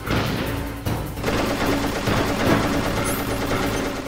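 Rapid machine-gun fire from Metal Gear Solid, a dense continuous burst of shots that runs loud for about four seconds, with no talking over it.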